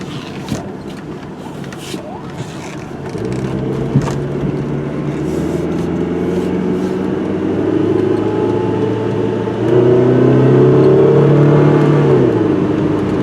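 A 1995 Pontiac Grand Am SE with a Quad 4 engine idles, then revs and pulls away, its rising whir growing louder as the car accelerates.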